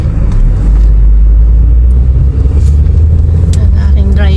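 Road traffic rumbles from inside a moving car, a loud, steady low engine and tire drone that runs throughout with only small swells.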